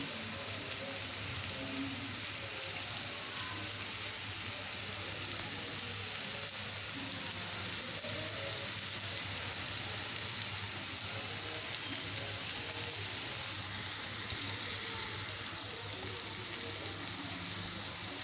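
Sliced bitter gourd (karela) fries in hot oil in a pan, producing a steady, even sizzle and crackle that runs unbroken, with no talking.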